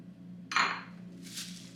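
A ceramic bowl clinks sharply once as it is taken out for making a galette, followed by a softer, fainter rattle of dishes against a low kitchen hum.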